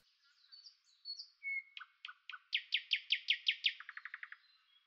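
A small bird sings close and clear on a cool, clear spring morning in village garden lanes, whistled notes building into a fast series of bright trills and quicker chips, alone in the quiet.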